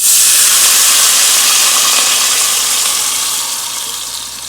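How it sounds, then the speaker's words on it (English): Garlic frying in a pot for Haitian-style cornmeal, giving a loud, close, steady bright sizzle that fades slowly toward the end, with no talking. "Be sure you watch your garlic because you do not want it to burn at all."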